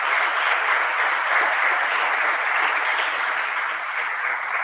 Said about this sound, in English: So if we could give them one last round of applause.